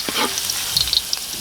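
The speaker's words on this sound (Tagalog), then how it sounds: "Magigisa na tayo. Simula tayo sa bawang." Garlic sautéing in a hot pan for fried adobo, a short close burst of sizzling and crackling with a few light stirring clicks, no talking.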